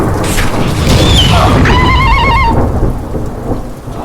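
An animated thunderstorm with lightning rumbles over a horse race, loud and close, with rain hissing and a heavy thunder boom, while warbling high tones slide over the storm before it eases slightly.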